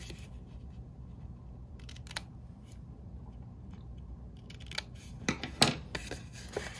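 Scissors snipping a half-inch piece of paper at a slight angle for a gift card craft; a few quiet, crisp clicks and slicing snips cluster near the end after a soft, near-silent stretch.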